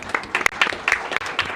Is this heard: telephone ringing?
no